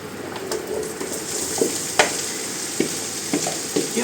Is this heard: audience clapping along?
no